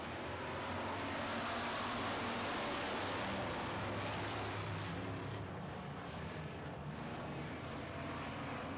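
Street stock cars race around a track in an evening heat, their engines blending into a continuous loud roar with broad hiss that stays steady, easing slightly toward the end, with no talk over it.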